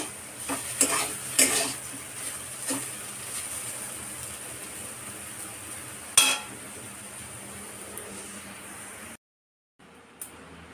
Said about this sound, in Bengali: আর এখানে আলু ভাজা বসিয়েছি প্রায় হয়ে গেছে